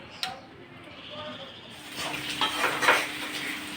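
Fish sizzles and spits in a frying pan in a home kitchen. The sound is quiet at first, then the sizzle rises into a steady, crackling hiss, with a voice talking faintly nearby.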